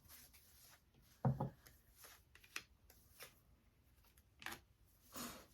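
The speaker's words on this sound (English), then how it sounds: "Let me pull a couple cards." Tarot cards are shuffled and pulled with soft papery rubs and flicks. There is one sharper slap, then scattered light card sounds, all quiet and close with no talking.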